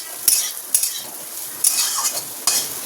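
Ridge gourd and poppy seeds being cooked in a wok, with a steady sizzle of frying and repeated sharp scrapes of a spatula stirring against the pan, all close and without voices.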